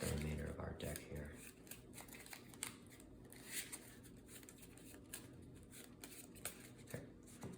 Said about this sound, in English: shuffle up the remainder of our deck here